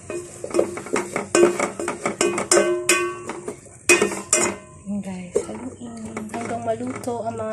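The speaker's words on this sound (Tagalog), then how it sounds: "Tapos, syempre, haluin natin." A spoon scrapes and clanks against a metal cooking pot while sinigang na salmon belly is stirred, loud irregular clattering strikes close by, with a person speaking over part of it.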